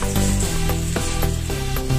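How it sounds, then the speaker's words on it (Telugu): Cut potato pieces drop into a hot pan for aloo fry, setting off a loud sizzle with several soft clattering impacts as the pieces land, close up and with no voices. "సో ఇప్పుడు నేను దీన్ని మెల్లగా మన బాండీలో వేసుకోవాలి."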